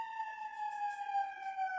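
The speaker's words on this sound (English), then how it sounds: "there's an ambulance now." An ambulance siren in the distance: a steady, faint wailing tone that holds and slowly drifts lower, heard alone with no talk over it.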